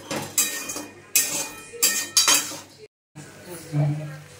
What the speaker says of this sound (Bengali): এবার আমি এগুলো দিয়ে ভালো করে কষাবো।